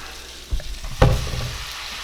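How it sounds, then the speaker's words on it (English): Meat hitting a hot roast pan for browning and searing, two sudden loud sizzling bursts about half a second apart, then a steady crackling hiss that fades slightly, close by with no talk. "That's just for browning the meat."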